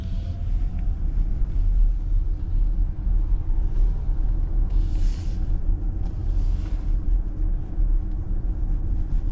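Genesis GV70 EV Signature Performance pulling away from a complete stop, a steady low road and motor rumble with wind noise building over several seconds, no talking.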